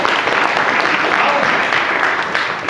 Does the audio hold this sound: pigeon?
no